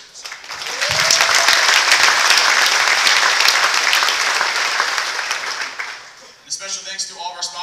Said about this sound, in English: So I want to give a special round of applause for those that we were unfortunately unable to accept.